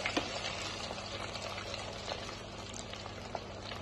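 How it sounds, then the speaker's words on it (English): Chips deep-frying in oil heated to 180 degrees give a steady, dense bubbling sizzle at close range. It stays even and unbroken for the whole stretch, with a few faint clicks on top. "I have the oil up to 180 degrees. So I'm just going to drop them in there"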